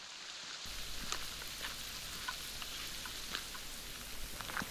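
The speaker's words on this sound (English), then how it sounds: "A little bit of hail there" Hail falls on the West Highland Way in Scotland, a steady hiss of pellets with scattered sharper ticks of individual stones striking nearby, constant throughout.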